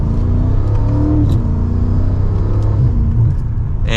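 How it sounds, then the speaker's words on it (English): A BMW M5 Competition F90 sedan accelerates hard, its engine roaring loud and steady as the deep rumble rises in pitch throughout, with no talking. "So let's give it another acceleration."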